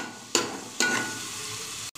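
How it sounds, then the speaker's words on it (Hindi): Onion frying in oil for a vegetable pakora curry: a steady close sizzle, with two brief louder surges as it is stirred. "प्याज हमारा फ्राई हो गया"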